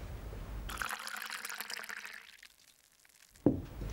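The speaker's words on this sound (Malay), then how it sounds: "Kita masukkan air ke dalam bikar." Water being poured into a glass laboratory beaker: a steady, close pour lasting under three seconds, fading into a quiet trickle, followed by a brief knock or clink near the end.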